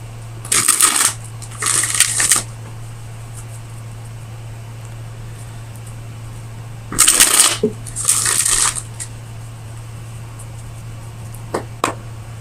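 Tarot cards shuffled in two pairs of brisk riffling bursts, close and crisp over a steady low hum, followed by quiet pauses and a couple of soft taps, with no talking.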